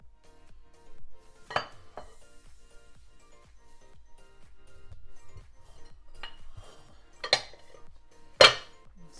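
Banoffee pie mixture is scraped from a bowl into a cake tin, sparse clinks and knocks of utensil on metal and bowl with quieter scraping between, close up and without talk.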